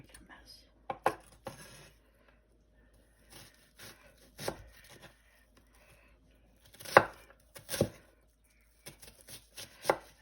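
A knife chops an onion by hand on a board in scattered, uneven knocks and a few short runs of taps, close to the microphone in a quiet home kitchen.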